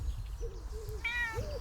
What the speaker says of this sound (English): this is the most amazing cat, Phoebe